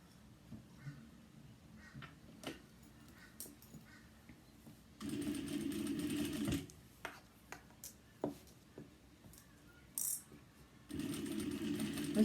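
A sewing machine bastes along a bag zipper at an eighth-inch seam in two short bursts of steady whirring, separated by quiet handling clicks and small taps of fabric being adjusted.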